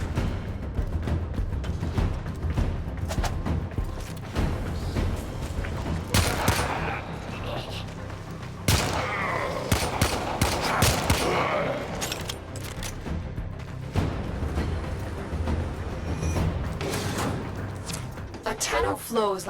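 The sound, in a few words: gunfire in the video game Warframe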